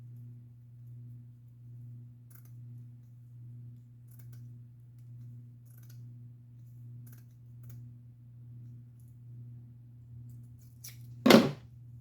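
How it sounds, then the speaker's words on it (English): Scissors cut once through a length of ribbon for a homecoming mum, making a single sharp snip near the end after a long stretch of steady low electrical hum. "You just go ahead and cut it in half."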